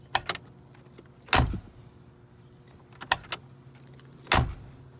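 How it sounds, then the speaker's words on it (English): Mercedes-AMG G65 G-Wagon doors shutting with an old-school mechanical click: three separate solid thunks, each with a sharp click, recorded close with quiet pauses between and no talking. "the sound the doors make when they close. It's this old school click you just don't get in modern cars"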